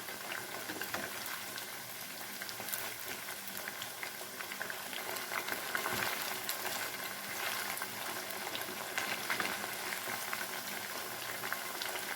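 Chicken 65 fries in a pan with a steady, dense bubbling sizzle of hot oil that holds at an even level throughout.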